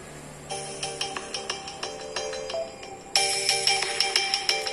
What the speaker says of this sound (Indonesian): Ada dering nih.